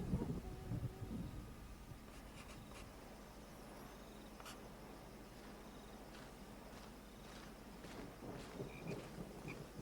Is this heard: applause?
no